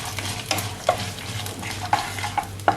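Mustard seeds fry in a pan with salt, giving a soft continuous sizzle and a few sharp pops and crackles scattered across the moment, without talk.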